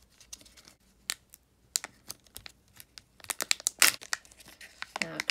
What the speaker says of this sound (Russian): Откроем Kinder Joy.